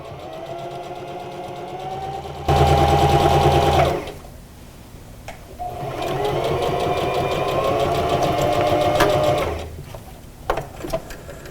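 A sewing machine stitches down folded seams on a fabric face mask, two loud close bursts of rapid mechanical whirring separated by quiet handling noise.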